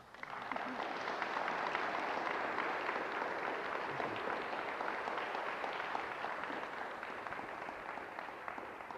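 Audience in a church service applauding steadily for several seconds, a dense, even wash of clapping that holds strong and tapers slightly at the end.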